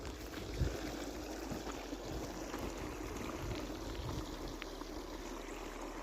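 Irrigation water running steadily through a maize field, a continuous broadband wash with a low outdoor rumble and occasional wind buffeting, no voices.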